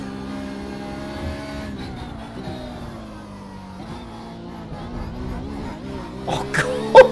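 Race car in iRacing at the Sao Paulo circuit, its engine droning steadily with tonal harmonics, then a burst of harsh thumps and rattles near the end as it runs over the curbs.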